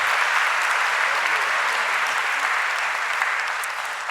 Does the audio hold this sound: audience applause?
yes